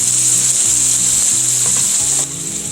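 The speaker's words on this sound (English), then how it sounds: "I'm going to add the marinade to the skillet. And we're going to let that cook down." Steak marinade sizzles and cooks down in a skillet, a loud, steady, close frying hiss that drops slightly near the end, with no talking.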